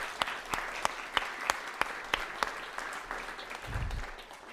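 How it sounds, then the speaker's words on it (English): Audience applause at a public library's grand re-opening in Parkland, Louisville: a few sharp, spaced claps ring out over a soft bed of clapping, ending in a brief low rumble. "I want to give a round of applause to the community here in Parkland."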